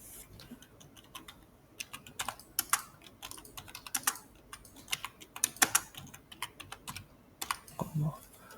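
Quick, irregular bursts of keystrokes on a computer keyboard as a short product description is entered into an online menu form, fairly close and quiet, with a few scattered louder clicks.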